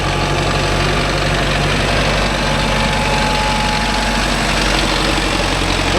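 Mahindra Arjun Novo 605 tractor engine running in farmland, a loud, steady low idle-like drone with a constant throb that holds unbroken throughout, nearby and alone with no voices.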